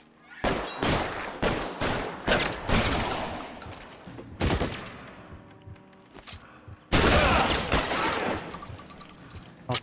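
Gunfire from a bank shootout in the video game L.A. Noire: repeated sharp shots in irregular bursts, some rapid volleys, loud and close, with a heavy burst near the end.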